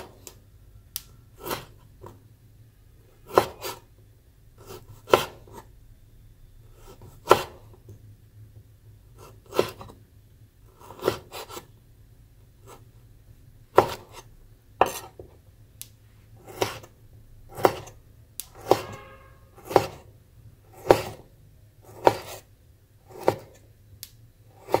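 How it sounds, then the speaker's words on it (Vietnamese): A knife slices Chinese sausage (lạp xưởng) into thin 1–2 mm pieces, giving a steady series of crisp, close chopping taps on a cutting board, with the pace picking up toward the end and no talking. "Lạp xưởng thì các bạn sẽ thái thành những cái miếng nó có cái độ dày từ 1 đến 2 mm."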